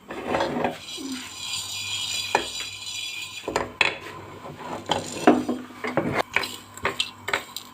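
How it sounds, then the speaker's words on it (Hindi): Whole spices such as coriander seeds and cumin being lightly dry-roasted and stirred in a metal pan, a steady scraping, rattling clatter with sharp clinks of a spoon against the pan, close and loud. "इन सब मसालों को हल्का सा हमने रोस्ट करना है"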